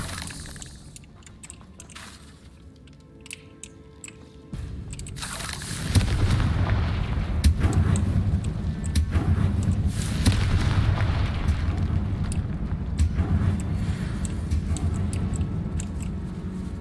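Confringo spell explosions strike spiders in a catacomb in the Hogwarts Legacy video game. A quiet stretch gives way to a sudden loud boom, then sustained rumbling blasts and crackling bursts keep going, close and heavy.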